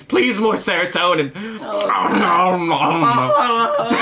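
A man mimics whimpering, crying dogs with his voice, producing a run of high, wavering whines and yelps, loud and close to the microphone, mixed with a few spoken words.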